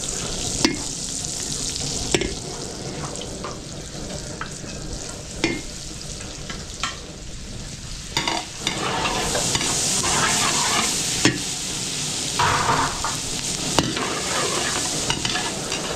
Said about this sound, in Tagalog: papupulayin ko lang ng konti yung bawang sibuyas, tapos tuloy-tuloy na to